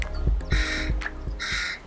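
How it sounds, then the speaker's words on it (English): Several loud, harsh crow caws in a row, close by, each a rough burst, with low thumps and background noise between them, in a neighborhood. "Can you hear or see crows in your neighborhood?"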